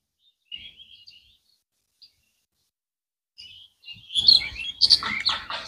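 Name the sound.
mynas calling in trees in spring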